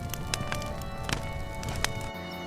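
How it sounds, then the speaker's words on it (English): Hooves clop unevenly over a low rumbling background, several horses moving at pace, fairly close, with no voices. "Minutes later, I heard horses."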